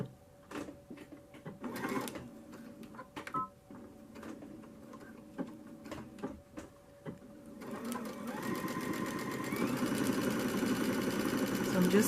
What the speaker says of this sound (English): So I'm going to sew this just around the edge